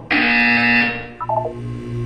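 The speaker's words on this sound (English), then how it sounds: "You will hear a buzzer. When you hear the buzzer, look down at the floor." A harsh electronic buzzer in the video game Portal 2 blares loudly for about a second, then cuts off, followed by a short stuttering trail of lower tones.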